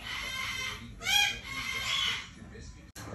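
A pet cockatoo squawks and calls indoors at close range, with loud, harsh shrieks and a sharp rising call in the middle.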